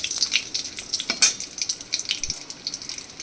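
Cinnamon and lightly crushed cardamom sizzle in hot oil as a tempering for a banana-stem dish, with soft steady crackle and a few sharper spits, faint and close.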